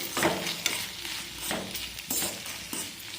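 Leftover rice stirred with tomato ketchup in a hot pan: soft sizzling under repeated scraping strokes of a spoon, several distinct stirs at an uneven rhythm, close and without talk.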